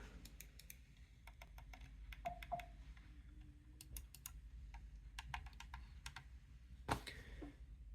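Buttons on an original Elecom Deft trackball mouse click crisply and sharply, with scattered single clicks and quick pairs spread irregularly over a quiet background, close to the microphone, with no talking.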